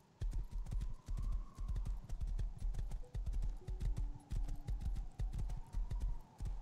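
Horse hooves clip-clop in a steady, brisk rhythm in the survival video game Rust, a close, fairly loud run of hoofbeats with no talking.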